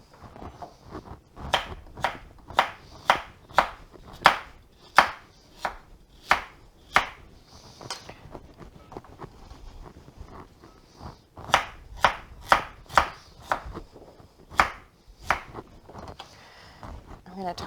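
A knife roughly chops carrot on a cutting board during Thanksgiving roast turkey prep: a fast run of about a dozen sharp, close chops, a brief pause, then another quick burst of crisp chops.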